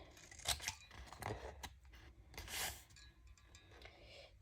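Scissors cut through paper for a scrapbooking craft caddy, giving several close, crisp snips and rasping slices in quick succession, quiet and alone with no talk.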